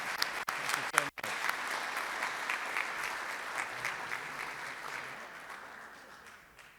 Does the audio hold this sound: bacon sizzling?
no